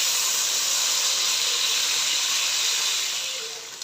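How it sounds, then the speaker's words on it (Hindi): Chicken pieces frying in a pan over low heat after lightly sautéed garlic, giving a steady, close, even sizzle and hiss that fades slightly toward the end, with no talking. "चिकन को फ्राई करेंगे अच्छे से।"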